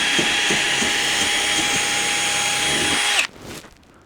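A power drill whines at high speed for about three seconds while boring holes for a maple sugaring tap kit, then stops abruptly, leaving a brief fading wind-down and quiet.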